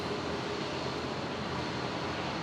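A Dash 8 turboprop at Brisbane Airport starting to taxi gives a steady, loud broadband engine roar with no distinct changes, constant throughout.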